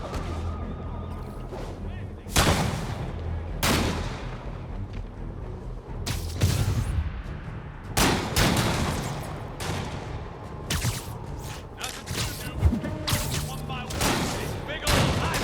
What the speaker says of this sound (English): We're getting reports of sniper fire on a police unit.